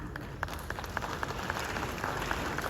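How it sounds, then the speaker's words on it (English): A crowd applauds at a gathering welcoming African leaders, steady scattered clapping at a moderate distance over a faint murmur. "Yeah, Ghanaians, you can clap for that."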